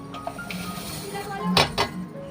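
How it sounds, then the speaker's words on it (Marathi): Roasted sesame seeds, garlic and chillies tipped into a metal mixer-grinder jar in a home kitchen, giving two sharp metallic clinks and a scraping clatter near the mic over faint room noise. "आता मिक्सरच्या भांड्यामध्ये ते टाकणार"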